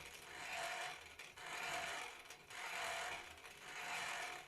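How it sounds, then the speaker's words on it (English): Hand crank electricity generator turned by its handle, a steady whirring mechanical drone rising and falling in four even cycles, close and fairly loud with no talk. "our hand crank generator this handle is spinning. It's spinning much faster than before"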